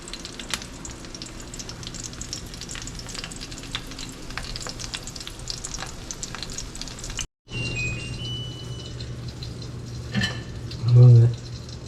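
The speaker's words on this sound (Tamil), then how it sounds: "சிக்கன் பர்மியானா வந்து அந்த பேனில் போட்டு அப்படியே நல்லா ஃப்ரை ஆகிட்டுருக்குது" Chicken parmesan sizzles in olive oil in a pan, a dense steady crackle with occasional stirring clinks, briefly cutting out before resuming with a short bump near the end.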